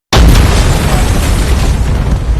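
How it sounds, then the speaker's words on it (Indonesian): A single loud, sharp gunshot bursts out of silence, followed by a sustained roaring, noisy rumble. "Yongdo langsung menembak Kyung-hee tepat di dadanya"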